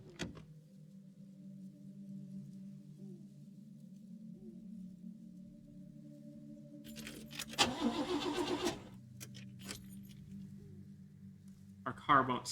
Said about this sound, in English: Our car won't start.